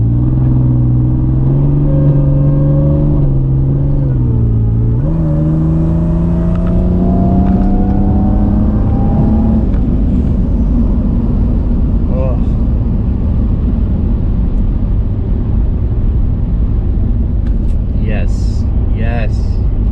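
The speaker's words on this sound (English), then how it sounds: "you give it a little bit of some throttle, and boom, it downshifts for you, and it's going" A Mercedes-Benz W203 C32 AMG engine pulls hard and loud from inside the car, its pitch climbing, dipping at a downshift, then rising again before settling into a heavy rumble.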